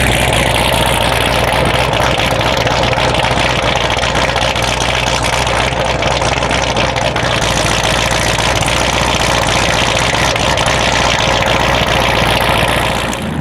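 A built Corvette C7 Z06 V8 idles loud and close with a choppy, lumpy cam rhythm, a steady deep rumble throughout with no talking.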